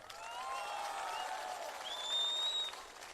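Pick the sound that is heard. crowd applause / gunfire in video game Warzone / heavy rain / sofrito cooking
crowd applause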